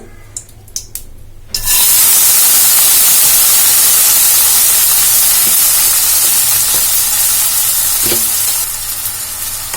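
Strained sago dropped into hot ghee in a pan on a low flame, starting with a few clinks before a loud, sudden hiss that settles into a dense, continuous close-up sizzle, easing slightly near the end.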